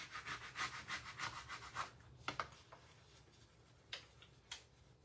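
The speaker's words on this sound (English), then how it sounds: "Sometimes it helps if you rub from one side to another side" A hand tool rubbed over a surface, first in a steady run of quick back-and-forth strokes, then a few faint, scattered scrapes, all fairly quiet and close.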